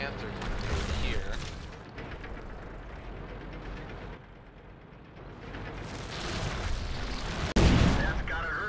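A tank shell slams into an enemy tank's turret in World of Tanks with a sudden loud, booming impact near the end, following rumbling engine and battle noise, with someone talking over parts of it.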